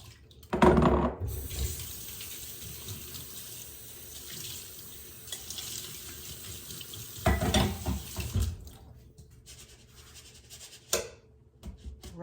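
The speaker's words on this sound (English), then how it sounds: "Rice has been rinsed" Rice in a strainer is rinsed under a steadily running kitchen tap, with a loud gush of water at the start, then a continuous hiss and spatter. A second strong burst comes near the end before the water stops.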